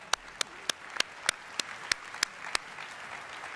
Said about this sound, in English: I want all of you to give yourselves a round of applause.